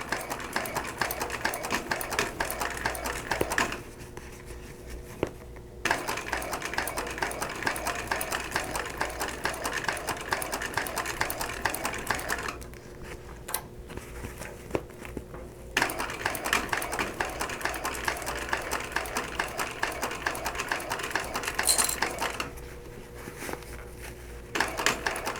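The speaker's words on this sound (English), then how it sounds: "Just gonna pull everything tight and just stitch across the bottom." A sewing machine stitches across the bottom of a fabric shoulder bag in fast, close rattling bursts, pausing briefly three times between runs of stitching.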